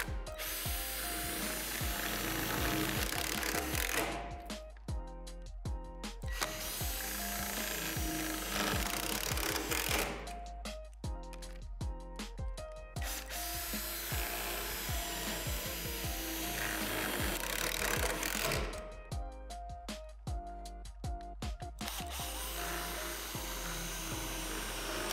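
Power driver sinking self-tapping screws through the metal frame of a Lifetime 54-inch portable basketball system, three separate bursts of close, loud grinding and ratcheting with pauses of quieter handling between them.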